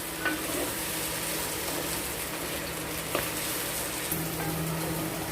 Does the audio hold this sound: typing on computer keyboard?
no